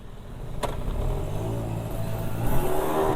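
A mini two-stroke motorbike engine revs close by, its buzzing drone climbing in pitch as it accelerates steadily over a few seconds, with no talk over it.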